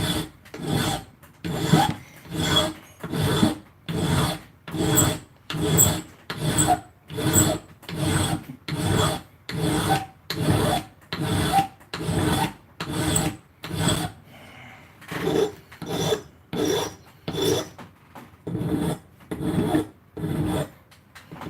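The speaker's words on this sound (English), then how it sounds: "I'll give you some advice on filing." Rasp file working wood in steady back-and-forth rhythm, about twenty-five even rasping strokes close up and loud, with a brief pause near the middle before the strokes resume.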